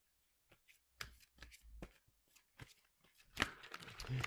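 A deck of romance oracle cards is shuffled by hand, producing quiet, irregular riffling and slapping bursts with short pauses between them, close and soft with no talking.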